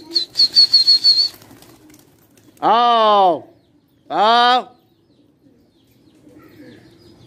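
Pigeons take off with a rapid burst of wing flaps, then two long, loud, rising-and-falling calls ring out close by; a man calls out briefly, and the surroundings are otherwise quiet.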